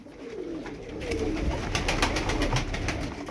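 Pigeons coo at an evening bird market auction, low soft cooing close by over a busy background with a brief burst of wing flapping.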